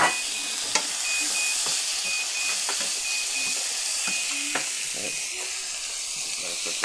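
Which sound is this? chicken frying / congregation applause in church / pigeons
chicken frying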